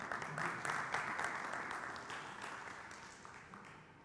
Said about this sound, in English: he needs your applause